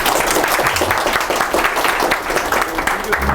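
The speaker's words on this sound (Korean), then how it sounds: "여러분 뜨거운 박수로" A lecture audience at a university talk on the Indian diaspora breaks into warm applause for the invited professor, with loud, dense clapping throughout and a busy room underneath.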